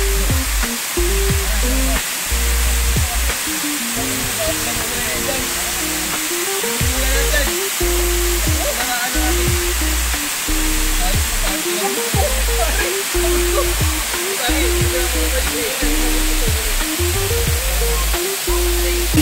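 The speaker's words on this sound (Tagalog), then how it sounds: "ito po yung pinakamataas na falls na po. Ito po ay nasa almost 50 feet ang taas." A waterfall about 50 feet high at a rural farmlot in Guinyangan, Quezon roars steadily, a loud broad hiss of falling water heard from below for the full length, with faint intermittent tones underneath.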